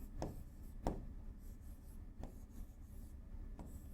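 Chalk or marker writing a Hindi word on a classroom board, a soft scratchy rubbing broken by a few sharp tapping strokes over about four seconds, close and with no talking.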